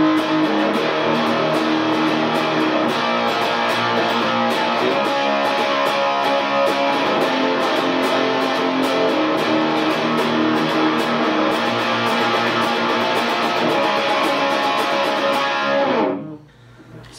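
A distorted electric guitar plays a chorus riff, a sustained dense wall of chords running steadily for about sixteen seconds before cutting off abruptly.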